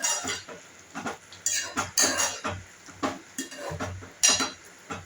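A spoon scrapes and clinks against a pan while the wild kantoli and val bean vegetable dish is mixed after salt is added, giving irregular close metallic taps and scraping strokes with no talk.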